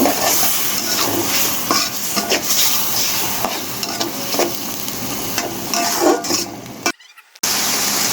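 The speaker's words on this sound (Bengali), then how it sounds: "মশলাটাকে কষিয়ে নিব।" Ginger paste and spice paste sautéed in a pan for a poya fish curry: steady loud sizzling with repeated stirring scrapes, then a brief sudden dropout before the frying resumes.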